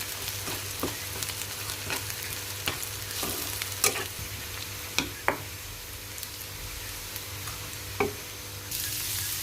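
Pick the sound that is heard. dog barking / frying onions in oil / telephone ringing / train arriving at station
frying onions in oil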